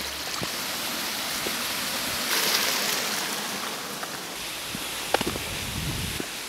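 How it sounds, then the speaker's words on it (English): Steady rain patters across autumn woodland in the Peak District's Derwent Valley, a dense, even hiss with a few sharper drips and rustles near the end. "it's raining again now"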